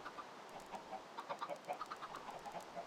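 Minecraft Bedrock chickens cluck in a faint, overlapping cluster of short repeated calls, a flock packed into a farm enclosure in the game.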